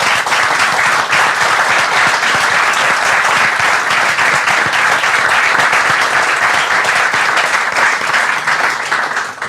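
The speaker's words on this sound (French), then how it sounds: "Je pense quand même qu'on peut vous applaudir parce que vous avez été très nombreux ce soir." A large crowd at an after-match fan gathering in a burger restaurant claps and cheers steadily, a dense, sustained wash of applause lasting several seconds.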